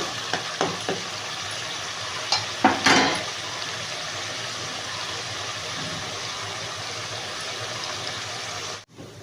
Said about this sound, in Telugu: పచ్చివాసన పోయే వరకు మనం ఫ్రై చేసుకోవాలి సిమ్లో పెట్టుకోవాలండి